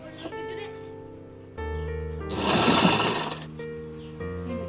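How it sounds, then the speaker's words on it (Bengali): A sewing machine stitching a blouse sleeve, running in short close bursts with a steady whirring hum, stopping and restarting, and one louder rattling stretch in the middle as the fabric is turned. "জাস্ট ঘুরিয়ে ঘুরিয়ে আস্তে আস্তে সেলাই করছি"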